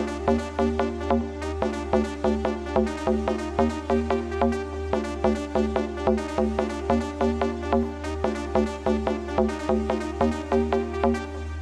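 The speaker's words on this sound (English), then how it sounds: "this mid-range bass" A mid-range synth bass pulses in a steady, driving pattern with a melodic synth line layered on top in a ravey techno track, a constant low drone beneath, loud and continuous with no voices.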